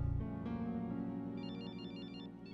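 A mobile phone rings with a loud electronic melody of bright, repeating synthesized tones, steady and close, with no one speaking over it.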